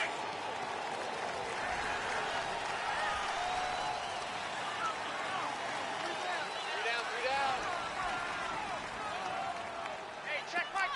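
Stadium crowd noise from an American football video game on PS4, a steady dense roar of cheering and applause lasting throughout, with a commentator's voice talking over it.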